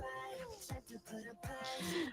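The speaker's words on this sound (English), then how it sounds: "Look at that sad cat." A sad-sounding cat meowing repeatedly with drawn-out, wavering cries, fairly close but quiet, with background noise and no clear talk over it.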